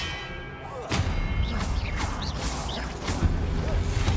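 A spell-casting burst from the Hogwarts Legacy video game: a dense magical whoosh and impact swell in at once and hold, with swooping tones and thuds layered over a steady rumble.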